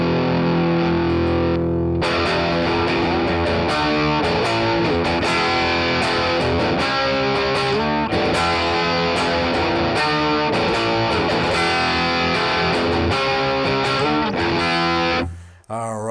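An electric guitar plays through the Brown sound on a NUX amp modeler, heavily distorted and loud, with a steady run of chugging, palm-muted riffs after a sustained opening chord. The tail is cut off abruptly.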